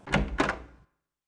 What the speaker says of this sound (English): When you feel you're ready, then go through the door.